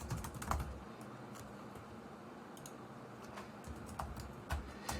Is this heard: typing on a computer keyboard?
yes